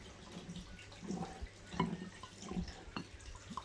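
A mix of milk and fish tank water is poured onto a freshly repotted Manjula pothos in a large pot, giving soft, faint trickles and drips in irregular bursts.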